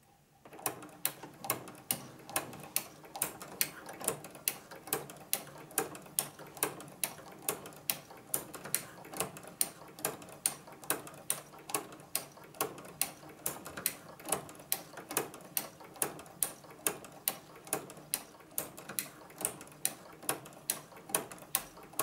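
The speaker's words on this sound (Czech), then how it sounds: "Nyní jsme šili s nastavením rufleru na číslo 6." A sewing machine fitted with a ruffler attachment stitches fabric at slow speed, with the ruffler set to 6, producing a steady, even run of sharp mechanical ticks at about three per second, close and clear, for the whole stretch with no talking.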